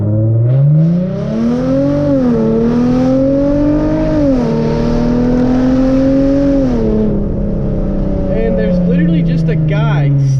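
Hyundai Genesis Coupe engine pulling hard through rising revs with shifts, loud and close, harmonics climbing then easing off; a voice speaks briefly near the end.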